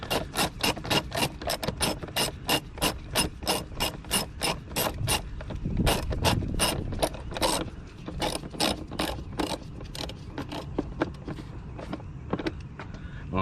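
Ratchet tightening an air filter box bolt on a Toyota Camry, rapid clicking in quick even bursts with short pauses between, close up and with no talking.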